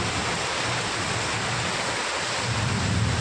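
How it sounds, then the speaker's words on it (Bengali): Heavy rain pours down in a steady, dense roar that fills the scene evenly from start to finish, with no gaps or voices. "আর এখন দেখো কতটা বৃষ্টি নেমে গেছে"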